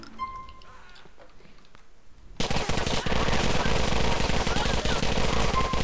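Gunfire in GTA IV: Episodes from Liberty City multiplayer: after a quieter stretch of faint game noise, loud, rapid automatic fire bursts in and keeps rattling continuously to the end.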